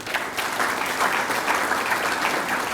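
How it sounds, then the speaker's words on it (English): Steady, dense applause from the audience at the 2019 Fiji Rugby Union Awards Night honouring RFMF engineers, a continuous wash of clapping at even loudness. "please join me in a round of applause tonight"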